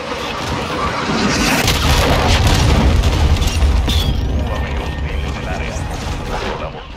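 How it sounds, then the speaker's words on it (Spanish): Cruise missile explosion in the video game Call of Duty Modern Warfare 2, a heavy sustained boom with rumbling debris and crackling gunfire, loud and close, with voices talking over it. "Los hostiles lanzaron un misil de crucero."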